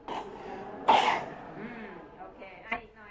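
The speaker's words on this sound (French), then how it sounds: "Une toux" Child with measles giving a single sharp cough, a close throat-clearing burst amid quiet speech-like murmuring.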